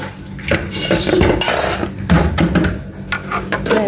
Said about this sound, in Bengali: ঢাকনা দিয়ে ঢেকে দিলাম